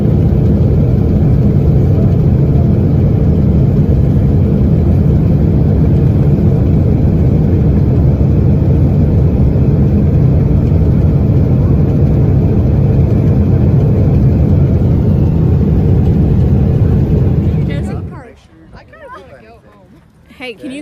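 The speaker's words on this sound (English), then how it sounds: "I saw the plane engine sputter" Loud, steady roar of a United Boeing 777 airliner with an engine failing after takeoff, a dense continuous rumble held for many seconds that then drops away abruptly into near quiet.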